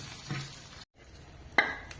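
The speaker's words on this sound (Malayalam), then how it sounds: "ഇതിലേക്ക് വറുത്ത് വെച്ചിരിക്കുന്ന ചെമ്മീനിട്ട് ഇളക്കുക." Fried prawns are stirred into a chili powder masala for prawn pickle, with soft sizzling in the pan and a couple of scraping stirs and a light clink of the spoon.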